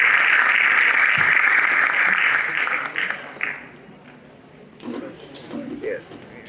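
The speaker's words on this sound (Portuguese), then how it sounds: "Peço palmas para Priscila Garcia Souza e Silva." Audience applause at a regional education forum round-table: loud, steady clapping for about three seconds, then fading away as talking takes over.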